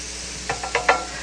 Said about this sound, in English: So we're going to give this a stir.